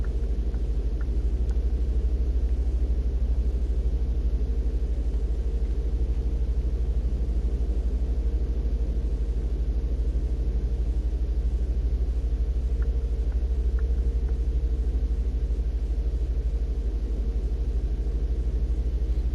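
In the Truck Driver console game, a truck's engine gives a steady, loud low rumble while overtaking, holding an even drone throughout with faint ticking above it and no speech.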